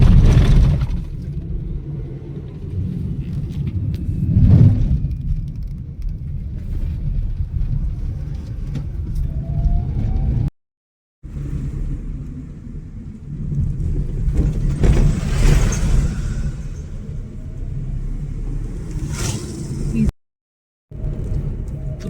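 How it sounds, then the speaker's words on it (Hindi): Motorbikes and cars pass along a quiet road near Khekranala Dam, their engines rumbling up and fading in successive swells, with some talk mixed in. "गाड़ी वाले फोर व्हीलर आना जाना कर रहे हैं।"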